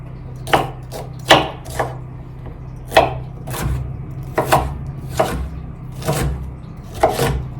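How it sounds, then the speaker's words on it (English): A knife chops bell pepper into strips and chunks on a cutting board, about a dozen crisp, close, evenly spaced knocks with no talk. "First I'll cut them into strips and then into little chunks"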